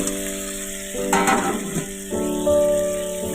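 Fried potatoes go into a sizzling spice paste for aloo dum, a loud, continuous crackling fry with a burst of hissing and stirring as they drop into the pan.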